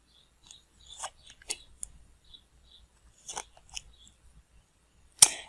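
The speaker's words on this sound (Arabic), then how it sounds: "خلينا نسحب ورق للمتزوجين" Tarot cards being shuffled and drawn, a series of soft papery flicks and snaps close to the microphone, scattered irregularly with a sharper slap at the end.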